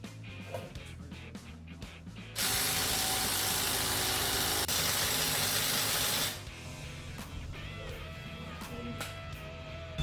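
A new wheel stud is pulled into the hub of a 2010 Dodge Avenger during brake and suspension work: a loud, steady mechanical whir lasts about four seconds, set between quieter clatter and shop noise.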